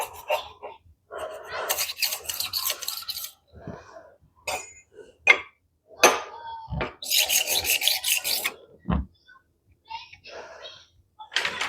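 A rolling knife sharpener is drawn back and forth along a blade in short scraping, rasping strokes, close and fairly loud, separated by brief pauses and clicks.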